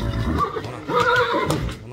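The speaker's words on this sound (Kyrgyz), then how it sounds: "Мына Шарабидин аканын келген аттары." A horse, one of a group of mares and foals, gives a loud, close neigh with rising and falling whinnying tones amid background noise and nearby talking.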